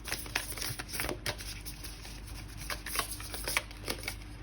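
A deck of tarot cards is shuffled by hand in a steady run of soft riffling flicks and taps, close and quiet, with no voices over it.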